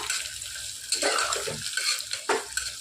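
Onion and mint hit a hot pan for chicken biryani and get stirred, a close hiss of frying under a few scraping and clinking spoon strokes, brief and without talk.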